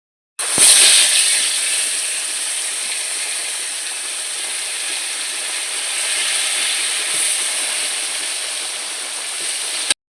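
Fish frying in hot oil seasoned with turmeric and salt, a steady loud sizzling hiss that flares up sharply at the start, then holds a dense even crackle throughout with no talk.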